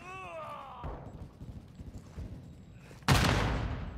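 In the Call of Duty: Modern Warfare II mission El Asilo, incoming gunfire aimed at the player breaks out as a sudden loud burst near the end, after quieter scuffling and a brief voice.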